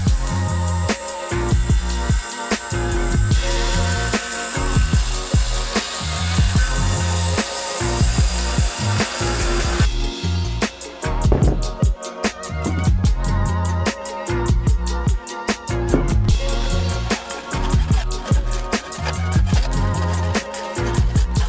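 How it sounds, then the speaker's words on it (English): A new bandsaw rips through a large 50-pound block of salt, a loud continuous grinding whine with gritty rasping texture that shifts in pitch partway through, close and steady with no voices. "So I just got a new bandsaw, and I can't think of a better way to break it in than running 50 pounds of salt through it."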